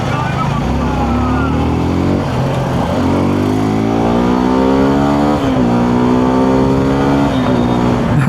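Engine of a 2026 Suzuki V-Strom SX 250 motorcycle while riding, a steady loud drone with rising and falling revs, several gear-shift dips, and wind noise throughout.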